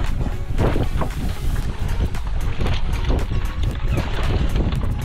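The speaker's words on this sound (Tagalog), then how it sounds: "Lakas na talaga yung hangin dito" Gusty wind roars loudly and continuously against the microphone, with water and boat noise churning underneath.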